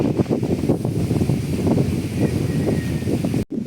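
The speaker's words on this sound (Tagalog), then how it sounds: "mahangin pa" Steady wind buffeting the microphone, a constant low rumble and rustle that cuts out abruptly near the end.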